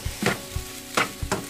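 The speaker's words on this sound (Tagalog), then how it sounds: "Tapos halo-haloin na lang ulit natin" Cup noodle fried rice with spring onion is stirred in a pan, giving quick scraping strokes and soft sizzles in an uneven rhythm, close and moderately loud.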